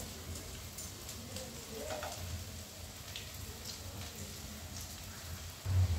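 Frying in a pan for a Gujarati fenugreek curry, a steady soft sizzle heard at low level with faint stirring and scraping, ending in a brief low bump.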